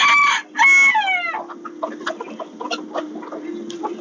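Bantam chickens kept in cages and outdoor chicken tractors crow loudly up close, followed by a run of soft, irregular clucks and murmurs continuing in the background.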